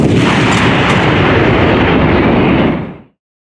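A single massive artillery blast roars loud and close, its rumble sustained for about three seconds before cutting off abruptly.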